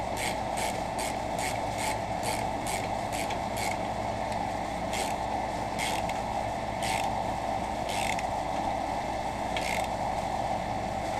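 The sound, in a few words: ratchet turning bolts on a mower engine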